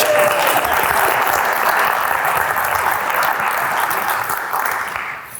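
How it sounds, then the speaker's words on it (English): An audience at a real estate talk breaks into loud, sustained applause, with thick clapping held steady for about five seconds before it starts to fade at the end. "Round of applause for staging, for Set the Stage."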